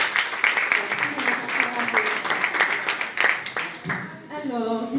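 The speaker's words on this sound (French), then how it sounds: "veuillez les applaudir s'il vous plaît" An audience applauds two slam poets at a youth event, a moderate spread of clapping with a few distinct hand claps standing out, while a voice speaks over the end.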